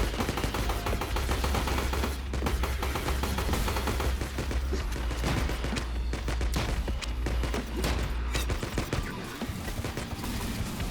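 Continuous rapid weapon fire in the alpha game IVOR, loud and unbroken, with crackling reports stacked over a constant low rumble and no pauses.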